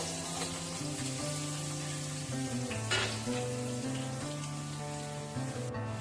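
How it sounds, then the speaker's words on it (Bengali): Paneer cubes sizzle in oil in a pan over a lowered gas flame, a continuous close crackle with a steady tonal hum running beneath. "এইটাকে একটু লাল লাল করে ভেজে নেব"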